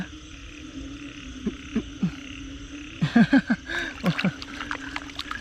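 Big egg-laden frogs croak across a rice field during heavy rain, throaty croaks coming in irregular clusters, some close and loud, over a steady hiss of rainfall.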